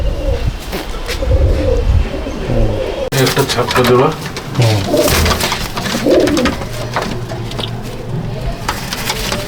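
Small Madrasi pigeons coo close by in soft, repeated throaty calls, heard under someone talking steadily throughout.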